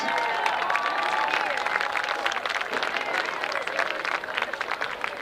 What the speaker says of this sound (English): let's hear one last round of applause for all of the seniors tonight